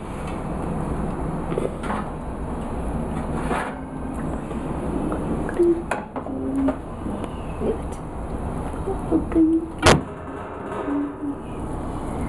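An oven door opens and clatters as an eggless vanilla cake is taken out. Soft scrapes and clicks lead to a sharp metallic knock, all against a steady kitchen hum.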